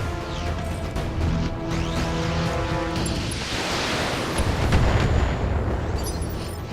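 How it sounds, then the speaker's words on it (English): Artillery fire in the Battletech video game booms and rumbles in heavy, overlapping blasts, with a sustained low roar swelling toward the end over a droning mechanical hum. "Artillery."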